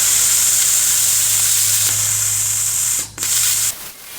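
A plasma cutter slicing through metal during a fuel tank relocation on a Ford F100, giving a loud, steady, close hiss with a low hum underneath that runs for about three and a half seconds, breaks briefly, then cuts off.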